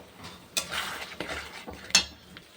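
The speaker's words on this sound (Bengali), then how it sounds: "এবার একটু কষিয়ে নিই" A spatula scrapes and stirs ground cumin, Kashmiri chili powder, salt and turmeric with a little water in a pan for cauliflower curry, making soft sizzling and a few sharp metallic clinks, fairly faint and close.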